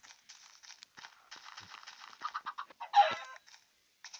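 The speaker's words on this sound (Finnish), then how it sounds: "Mihin sinne kanat meni tuolla?" Video-game chickens cluck and squawk in short, thin repeated bursts at moderate volume, with one louder squawk partway through, heard alone against a quiet background.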